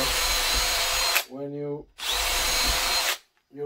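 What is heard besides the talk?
power drill making holes in pallet wood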